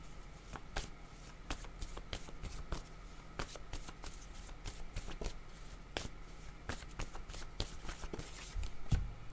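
Tarot deck being shuffled, a steady run of soft papery riffles and card slaps close by, with no talking.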